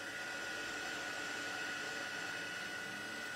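A heat gun blows steadily for embossing powder on a handmade Christmas card, a quiet, even whooshing hiss that stays unchanged throughout, with no voices.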